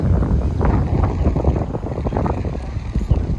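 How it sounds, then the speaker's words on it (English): Strong beach wind on Maui buffets the microphone in steady, low rumbling gusts, with no voices, just continuous blustery noise throughout. "It's a little bit windy."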